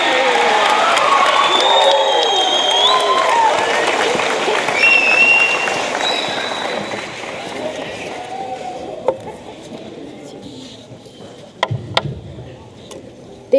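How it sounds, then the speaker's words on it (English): A crowd at a high school class of 2024 graduation ceremony applauds the graduates, sustained broad clapping and cheering with voices mixed in, gradually fading to scattered claps. "Let's give them a round of applause."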